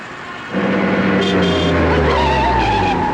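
A car skids to a stop on a road: a loud, sustained tyre screech over engine noise that lasts a few seconds, with no voices.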